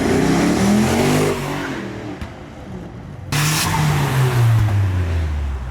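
A green Mercedes pulls into a car meet, its engine note rising loudly and close, dipping for a moment, then surging again in a strong, drawn-out pass.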